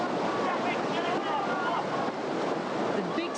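Rushing white water pours through river rapids at a stopper, a steady, dense roar close by that fills the whole stretch without letting up.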